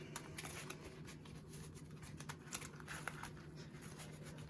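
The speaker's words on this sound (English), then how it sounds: "So let's get them back in and shuffle up." Playing cards from a Yu-Gi-Oh Orcust deck being shuffled by hand for test hands, a steady soft run of riffling and patter close up, faint under a low hum with no talking.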